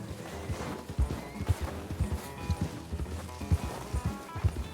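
Horse hooves in the video game Red Dead Redemption 2, a steady rhythmic clip-clop of a ridden horse thudding close and low throughout, with a faint ambient bed behind it.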